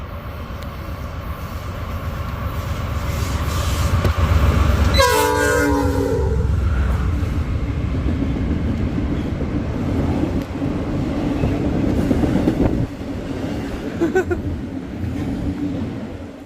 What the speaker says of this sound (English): we get this westbound intermodal with this really nice P5A on the lead unit